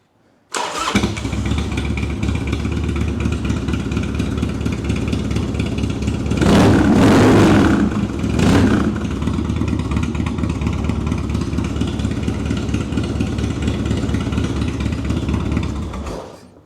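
A 1999 Harley-Davidson Dyna with a Sawicki Speed exhaust starts cold and settles into a loud, steady, close idle, with two sharp throttle blips swelling the rumble partway through.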